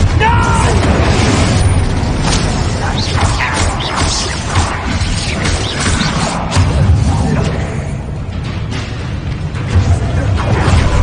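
Repeated fiery Confringo spell explosions in Hogwarts Legacy, a dense run of loud booms, crashes and bursts layered over game battle noise, with occasional voices mixed in.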